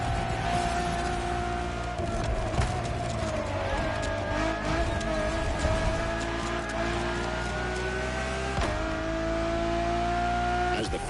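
Ferrari Enzo supercar engine in The Crew Motorfest driving game, a steady loud drone that rises in pitch as it revs, with tire and road noise underneath, no talking.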